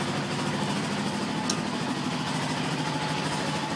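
Yamaha Raptor 700R ATV engine idling, a steady low putter and hum that stays even throughout, fairly close, with no talk over it.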